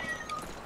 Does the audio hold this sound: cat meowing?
yes